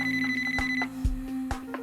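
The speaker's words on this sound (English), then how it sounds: "But when the phone rings one day" A telephone rings in a true-crime television drama. It gives steady electronic tones that come in short pulses over a low background hum.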